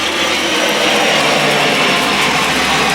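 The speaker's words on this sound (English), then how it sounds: "Always an airplane." Airplane flying overhead above a backyard koi pond, a steady broadband jet roar heard from a distance, constant and unbroken throughout.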